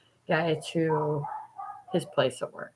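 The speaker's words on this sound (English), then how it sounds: "And if you hear them barking, that's what they're doing out there." Dogs bark outside, several sharp barks early on and another burst near the end, with a person talking over and between them.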